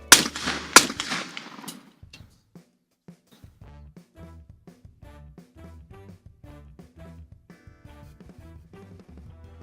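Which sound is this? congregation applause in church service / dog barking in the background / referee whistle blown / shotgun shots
shotgun shots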